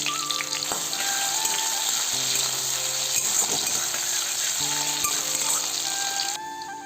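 Chopped tomato and chili fry in a pan for a Bengali gathi kochu curry, giving a steady, loud, dense sizzle throughout with occasional light clicks and taps, no voices.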